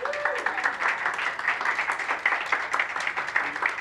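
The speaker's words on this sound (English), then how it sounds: "Applause." Conference audience applauding, a close, steady patter of many hands clapping with a faint held tone near the start, continuous throughout the short stretch.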